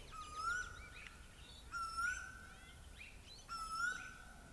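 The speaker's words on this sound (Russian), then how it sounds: "Птички поют утром у нас." Small birds sing in the early morning, three clear whistled phrases spaced a couple of seconds apart, each with a sustained tone and higher twittering, heard at moderate distance over a quiet outdoor background.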